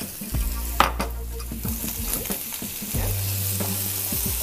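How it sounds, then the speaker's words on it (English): Tomatoes tipped into onions frying in a pan for a masala omelette: a loud sizzle swells as they land, with spoon scrapes and stirring clatter throughout, up close and without talk. "Now I'm going to put the tomatoes in."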